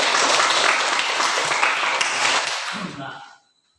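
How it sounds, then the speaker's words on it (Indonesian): A classroom of students applauds a classmate with dense, steady clapping that holds for about three seconds and then trails off into silence. "Berikan tepuk tangan buat Herti."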